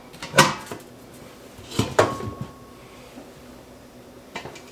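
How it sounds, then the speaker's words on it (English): A pressure cooker pot is taken out of a kitchen cupboard: two sharp nearby knocks of a door and metal pot, a few softer clatters after, then quiet, with no voices. "I'm going to go ahead and get my pot out"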